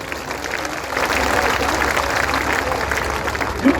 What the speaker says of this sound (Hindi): बारी सेब के नाम की तो ताली बजा दो।